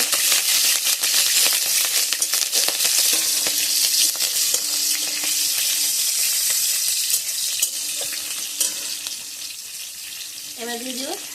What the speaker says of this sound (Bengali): দিয়ে দিলাম কালো জিরা ফোড়ন আর দিয়ে দেবো বেশ কিছুটা কাঁচা লঙ্কা ফোড়ন।